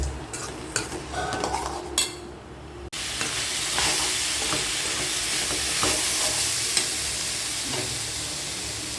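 Carrots and beans sizzle in a hot pan, with a spoon scraping and clinking as they are stirred; after a brief pause the frying hiss turns steady and loud, close by, with no talk.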